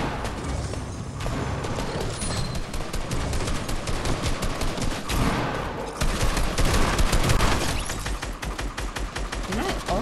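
Rapid automatic gunfire from a video game weapon rattles in dense, sustained bursts for the full stretch, close and loud with a few heavier booms mixed in.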